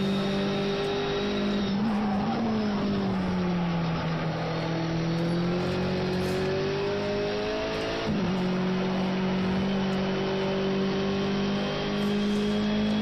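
Race cars lapping the Brno circuit in a racing video game, engines droning loudly and continuously with rising and falling revs as several cars pass, with brief tire squeal.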